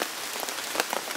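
Rain falls steadily on a wild camp in the woods, pattering close and fairly loud on surfaces with scattered heavier drops tapping through it.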